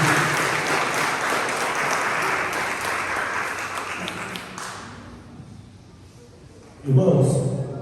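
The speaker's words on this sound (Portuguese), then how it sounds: "Palmas para Jesus" A church congregation at a deliverance service claps for Jesus in a dense, lively burst that gradually thins and fades, then a loud new sound swells near the end.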